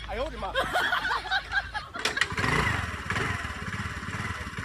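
A motorcycle is kick-started: after someone talks and laughs, the engine catches and runs with a rough, close putter and clatter.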